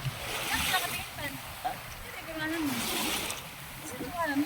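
Seawater splashes and pours in bursts into a bucket, with people talking over it outdoors.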